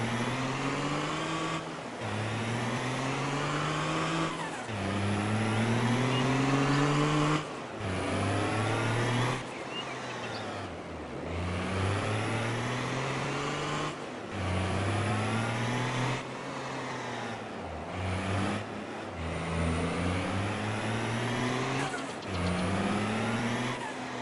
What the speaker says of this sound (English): One rough truck.